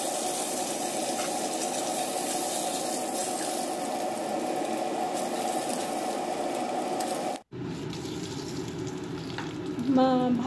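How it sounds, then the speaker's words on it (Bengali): Dried red chillies, cumin seeds and bay leaves sizzle steadily in hot oil left from frying fish heads, a dense close crackle that breaks off for a moment and then resumes with the bubbling of the tempering. "ওই তেলে শুকনো লঙ্কা, জিরে আর তেজপাতা ফোড়ন দিয়ে দিলাম"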